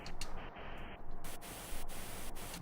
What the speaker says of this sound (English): I'm going to add a sampler, pink noise stereo.